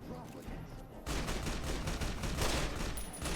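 An automatic rifle in Fallout: New Vegas opens up after a quiet second, spraying a loud, dense, continuous stream of rapid shots that keeps going to the end.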